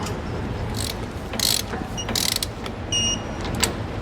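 Wrench ratcheting in short bursts while tightening nuts on a steering stabilizer bracket of a 2021 Ford, several brief clicking runs separated by pauses, close and fairly loud.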